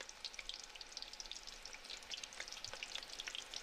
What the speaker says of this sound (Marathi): खोबरं मिक्सरमधून काढलेलं पण छान असं लालसर भाजू द्यायचं